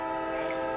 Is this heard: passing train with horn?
yes